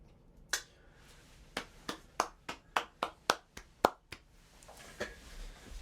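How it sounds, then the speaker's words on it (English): Sharp, close claps ring out one at a time in an uneven rhythm, about a dozen of them, with a few quiet gaps and a softer final clap in a quiet room. "Boys clapping."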